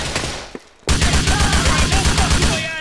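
Gunshots in the video game GTA IV, a loud rapid string of close shots starting abruptly after a short lull and firing in a steady automatic rhythm to the end.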